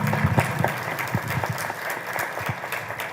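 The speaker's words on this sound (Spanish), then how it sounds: "Los recibimos con fuertes palmas." Audience at a constitutional law colloquium at a Peruvian university claps to welcome a speaker, a moderate patter of individual claps with an uneven rhythm, fairly close.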